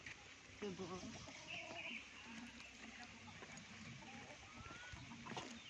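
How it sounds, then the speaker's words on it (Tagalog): Chickens cluck intermittently near a house at a sanctuary in Maragondon, Philippines, soft clucks scattered across a quiet outdoor scene with faint voices. "May mga manok."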